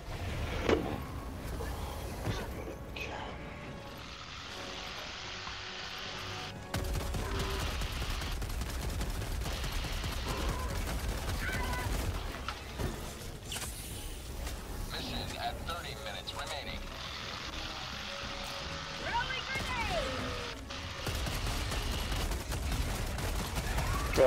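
Gunfire from a weapon in the video game Helldivers 2: repeated bursts and scattered shots mixed with explosions and game effects, with a player's voice talking over the action.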